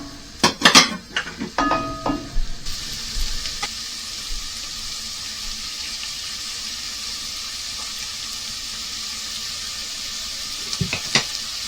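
Pieces of wild rabbit hit a hot pan for a Moroccan tagine with a burst of clattering metal and sharp knocks, then settle into a steady, close hissing sizzle.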